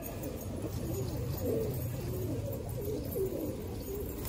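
Zarad pigeons cooing softly in a repeated low rolling rhythm, several calls in a row over constant faint background hum, fairly quiet and with no flapping or speech evident.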